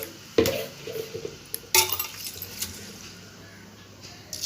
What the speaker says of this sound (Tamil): இது ரெண்டையும் எடுத்து நல்லா தண்ணியில் ஃபஸ்ட்டு கழுவிக்கலாம்